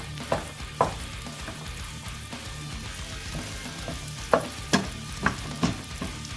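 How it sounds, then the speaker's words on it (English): Sausage cooks in sauce in a pan for a stuffed pizza, a low bubbling sizzle carrying on throughout, broken by several sharp spoon knocks and scrapes at uneven intervals. "we're going to cook this grease right out of the sausage too"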